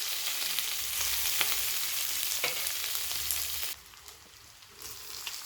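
Leftover rice being mixed in a pan for lemon rice with lime and salt: a steady, soft frying sizzle that drops noticeably quieter partway through, then slowly swells again.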